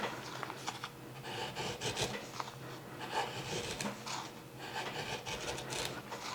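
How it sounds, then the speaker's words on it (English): A wide chisel paring a small wooden tone bar, giving quiet, close scraping and rasping strokes in an irregular rhythm, soft overall with brief louder scrapes and no talking. "I use a wider chisel for doing these kinds of cuts"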